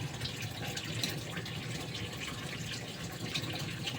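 Water with lemongrass boiling in a pot for cooking octopus gives a close, continuous bubbling and hissing with small popping and dripping sounds and no talking.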